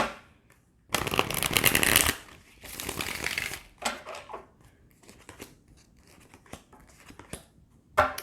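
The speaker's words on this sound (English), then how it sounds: "One more shuffle." Quick riffling bursts of tarot cards being shuffled, two long flurries followed by scattered shorter flicks and taps, close and crisp, with no talking.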